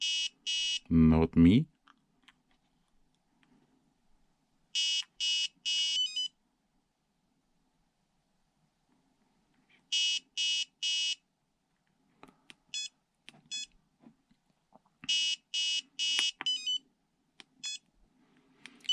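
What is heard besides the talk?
low voltage alarm beeping on Flysky FS-G7P radio transmitter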